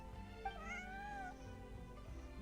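A cat named Bonnie in a video game gives a single drawn-out meow with a rising and falling pitch, heard clearly over a low background hum.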